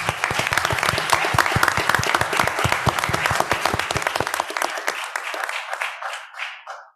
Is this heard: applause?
yes